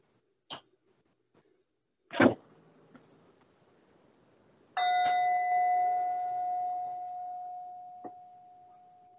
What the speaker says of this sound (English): I'll ring a bell and let's do a meditation together.